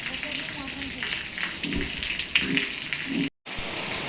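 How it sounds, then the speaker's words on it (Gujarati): Heavy rain pours down in a dense, steady hiss, with people talking faintly underneath and a brief dropout near the end. "વરસાદની તો સ્પીડ વધી જઈ છે ભાઈ જોરદાર પડવા માંડ્યો વરસાદ"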